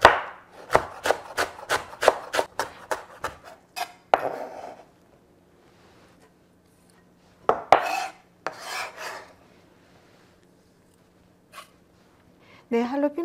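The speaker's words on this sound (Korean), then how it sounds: "부추도 한줌 잘게 썰어 주시고요" A knife finely chops a handful of chives on a cutting board in a home kitchen, about ten quick, crisp taps in steady rhythm up close, then brief later bursts of chopping separated by quiet pauses.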